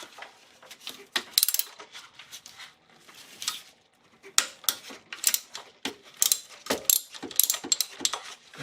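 A ratchet wrench clicks in quick, irregular bursts while loosening a 12 mm nut on a 1999 Acura RL during a power steering belt job, close and crisp with short pauses between strokes.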